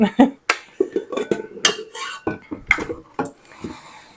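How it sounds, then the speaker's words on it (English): A whisk stirs a homemade bread mixture in a bowl, knocking and clinking against the sides in a quick, irregular series of sharp taps, close and clear. "instead of using a spoon, I'm going to use a whisk. I find the whisk works better."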